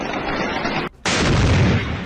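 Artillery shelling near Aleppo University in Syria: a sustained, heavy broadband roar of blasts cuts off briefly for a split second, then resumes even louder.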